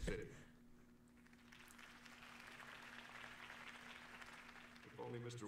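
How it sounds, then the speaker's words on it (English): Crowd applause from the Batman Telltale video game, a broad steady clapping wash lasting several seconds at moderate level behind a low sustained tone, with a brief voice near the start and end. "could have heard that applause"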